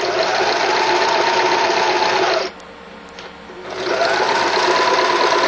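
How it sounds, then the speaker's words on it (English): A sewing machine runs a zigzag stitch across a webbing loop in two loud, steady bursts that stop for about a second between them. "Start at the loop using a moderate zigzag stitch and a fairly short stitch length"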